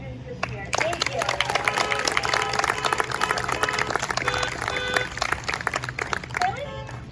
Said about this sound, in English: let's give one more round of applause for our teachers and our students this year